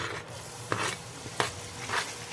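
Garlic tossed into ground beef frying in a pan, with a steady sizzle and a few sharp stirring scrapes of a utensil against the pan, close and with no talking.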